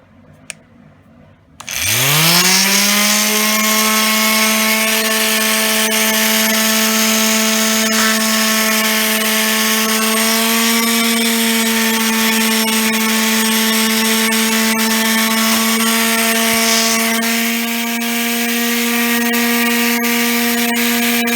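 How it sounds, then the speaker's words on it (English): Power sander working on a rusted travel trailer stabilizer scissor jack, a loud steady motor whine with a sustained tonal hum that starts abruptly and runs continuously, slightly shifting in load. "I'll show you what it looks like after I sand it"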